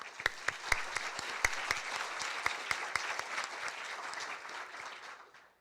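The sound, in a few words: applause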